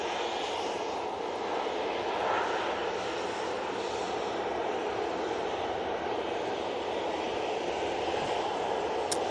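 TUI Boeing 737-800 airliner at Manchester Airport, heading for Zakynthos, a steady loud engine roar and hiss holding constant throughout, with no voices.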